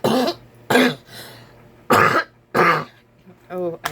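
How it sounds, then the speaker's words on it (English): Several harsh coughs come in quick bursts close to the microphone, with short pauses between them and a brief voice near the end. "I thought my coughing was getting better after I used the inhaler"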